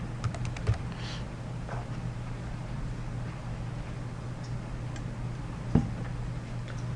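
Keywords being typed on a computer keyboard, a steady run of light clicking keystrokes over a low constant hum, with a couple of sharper key hits.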